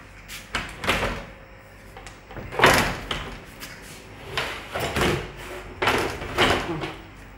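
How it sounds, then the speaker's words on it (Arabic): Bathroom door in an apartment worked repeatedly: a series of close wooden bumps, clunks and latch clicks spread unevenly over several seconds, with quieter handling between them. "ده باب الحمام"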